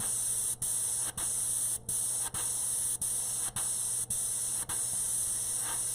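An airbrush sprays an intercoat clear coat onto a bio-mech cyber girl model figure. A steady, close hiss keeps going with short regular breaks roughly every half second, and no one speaks.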